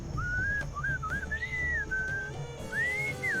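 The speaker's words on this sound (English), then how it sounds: "What is that enchanting whistling sound?" A melodic whistled tune plays in the Sam & Max: Beyond Time and Space video game, with clear rising and falling phrases over soft background sound.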